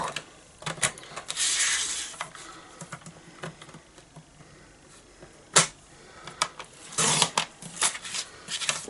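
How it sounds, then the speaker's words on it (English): A paper trimmer slices through cardstock while a Christmas shaker card is being made, with short scraping cuts and sharp clicks of the blade and paper handled close by. "I'm going to bring back my trimmer so we can cut that out"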